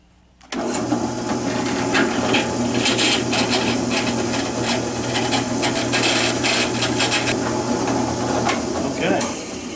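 A drill boring a hole for a homemade camera mount: a loud, continuous grinding whir that starts abruptly and holds steady for about nine seconds, with rough rasping texture over a low motor hum.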